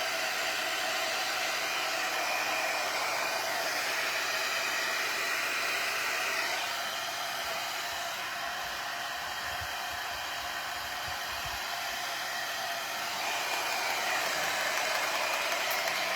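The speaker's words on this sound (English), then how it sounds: "So if you take the dryer and go like this" A hair dryer blows steadily on a resin beach tray, a constant close airy whoosh that softens briefly midway before picking up again.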